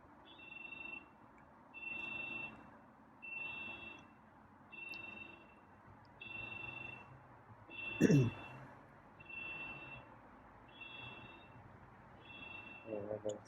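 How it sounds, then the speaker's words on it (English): An aftermarket car alarm sounds outdoors in cold weather, a repeating chirping tone in regular bursts about once per second, moderately faint, with someone talking over it and a brief louder squeal midway. "That car's making noise again."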